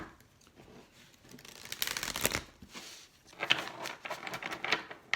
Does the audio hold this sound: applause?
no